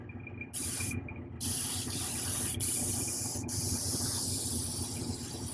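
Semi-gloss paint sprayed from a can onto a 1/4-scale Hellboy figure model, several steady close hissing bursts, the longest lasting a few seconds, separated by short pauses.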